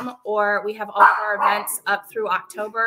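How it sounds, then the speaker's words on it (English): Dog barking in short, tonal bursts close to the microphone, overlapping a person speaking during a virtual book event panel. "Apologies for the dog barking."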